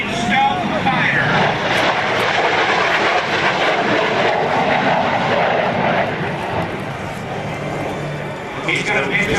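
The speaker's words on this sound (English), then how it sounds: "from the left, every Iraqi bad guy's worst nightmare, the F-117 stealth fighter" A Lockheed F-117 Nighthawk stealth fighter roars past in a flyby at a 2004 joint services open house, a loud continuous jet rumble and whine filling the whole stretch, with crowd and announcer noise mixed underneath.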